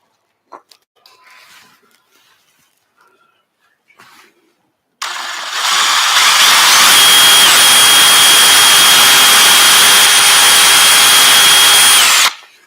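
A hand-held electric drill bores a hole in a wooden birdhouse, starting abruptly midway and holding a loud, steady high whine with a faint hum beneath. Before it come quiet handling noises.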